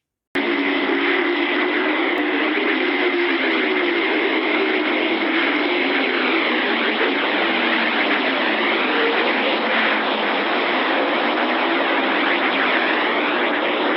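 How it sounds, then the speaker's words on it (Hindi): A dense, steady electronic drone with shifting, swirling tones fills the whole stretch without a break: a recorded sound of Earth from space. "ये प्लैनेट्स की आवाज़ है"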